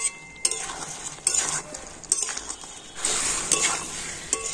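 Fried potatoes being stir-fried with spices for aloo dum, a soft sizzle under clinking and scraping of a spoon against the pan in irregular strokes, close by, no voices.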